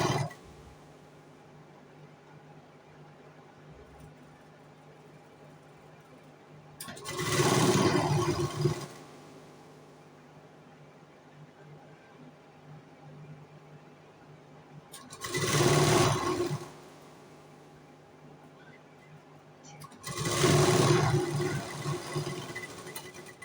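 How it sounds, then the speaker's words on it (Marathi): Sewing machine stitching a katori blouse in three separate short bursts of whirring, each lasting one to two seconds, with quiet pauses of handling in between. "आणि शिलाई मारून घ्यायची."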